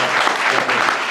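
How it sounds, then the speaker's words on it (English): Short burst of audience applause at a business and entrepreneurship event, a dense, steady wash of many hands clapping close by with no gaps. "Have a round of applause"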